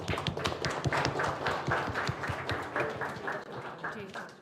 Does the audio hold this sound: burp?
no